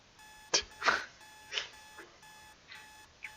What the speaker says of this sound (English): My alarm clock wakes me up with a jump.